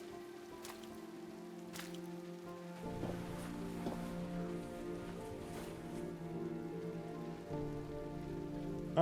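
Steady rain in the video game Road 96, a continuous hiss of drops on surfaces with faint low tones and scattered louder patters, alone with no talking.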